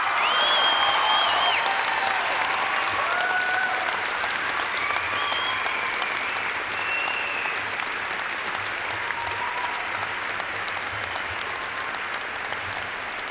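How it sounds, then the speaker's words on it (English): Commencement audience at a university graduation applauding for families and friends, a broad steady wash of clapping from a large crowd with a few cheers and whistles, sustained and gradually tapering. "acknowledge your families and friends with a round of applause for all the support and encouragement they've offered you"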